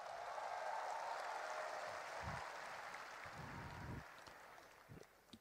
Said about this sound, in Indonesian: Belum selesai udah tepuk tangan.